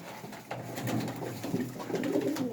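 Pigeons coo nearby in several soft, throaty, repeating calls against a low background hum, with no voices.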